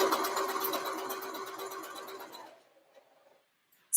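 A sewing machine stitches a skirt with a fast, steady mechanical whir and hum, close by, that runs for about two and a half seconds and then stops, leaving near silence.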